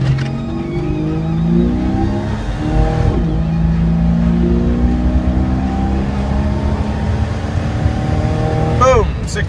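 Full-throttle acceleration of an automatic Jeep Wrangler TJ with slightly larger tires and a cold air intake, launching from a standstill toward 60 mph. The engine climbs loudly through rising pitch, a shift around three seconds and another near the end, with no pause.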